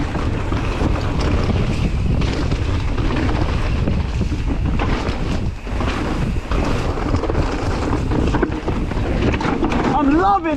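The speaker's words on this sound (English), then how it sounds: "it's really windy now" Strong wind buffets the microphone during a downhill mountain bike run, a loud continuous roaring rush with gusty surges, while a rider speaks briefly under it.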